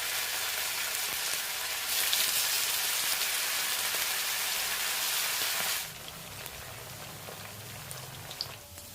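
Masala-coated chicken pieces deep frying in hot oil, a steady loud crackling sizzle that swells after two seconds and then drops to a softer bubbling for the last few seconds, with no talking.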